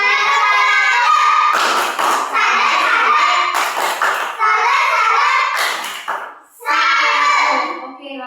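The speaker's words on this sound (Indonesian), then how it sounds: "tepuk tangan dulu" A children's science class breaks into several short bursts of clapping, loud and close, alternating with a voice and chatter between the rounds.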